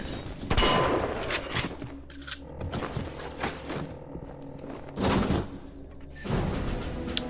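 Gunfire in Bioshock, several sharp shots and a burst mixed with clanking mechanical game sounds and a creaky ambient backdrop, moderately loud.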